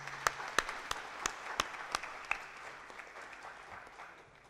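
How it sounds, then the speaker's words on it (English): Scattered claps from a summit plenary audience, fairly faint and sparse, with a handful of distinct hand claps early on that fade into quiet room noise. "So, big round of applause for that."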